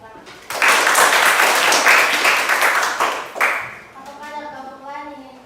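Classmates clap for a student group that has just finished presenting in a teacher-training class: a lively burst of many hands for about three seconds that tapers off, followed by a person starting to talk.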